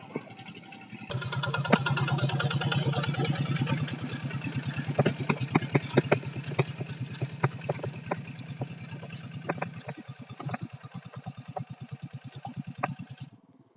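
A tilling machine works a paddy field left after the rice harvest, its engine putting out a steady, fairly close throbbing idle that shifts and thins near the end, with scattered clicks and knocks and no talking.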